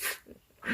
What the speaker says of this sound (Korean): 지금도 강아지가 짖죠?